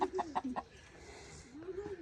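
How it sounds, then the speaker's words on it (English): Chickens cluck nearby in a quick rhythmic series of short calls, then a quieter pause and a few more drawn-out clucks over faint background noise. "we need more room for the chickens"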